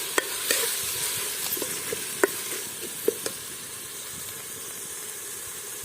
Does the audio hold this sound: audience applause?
no